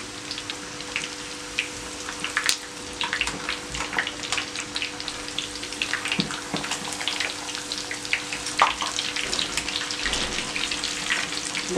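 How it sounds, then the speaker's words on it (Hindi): Chicken frying in a pan of hot oil for a Lahori steam roast, a steady close crackle and spatter with scattered sharp pops throughout, no voices over it. "एक ही दफ़ा ध्यान से इसको फ्राई करना है ताकि ये एक साइड से अच्छी तरह से फ्राई हो जाए"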